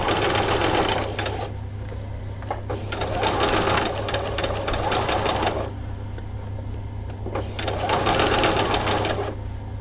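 A sewing machine stitches a back stitch and runs down a seam on a doll's coat made of silky fabric, running in three loud rapid bursts with quieter pauses between, over a constant low motor hum.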